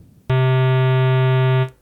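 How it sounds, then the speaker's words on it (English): Internal square wave from an Ensoniq EPS16+ sampler set to a bidirectional loop, holding one steady buzzy harmonic note for about a second and a half before it cuts off, with no voice over it. "That's what the square wave sounds like right out the box."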